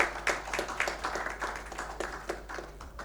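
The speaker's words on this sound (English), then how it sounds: "Let's have a huge round of applause" Audience applause at a national accounting and reporting conference, a crowd clapping in scattered, uneven bursts that gradually thin out, fairly distant in a large room.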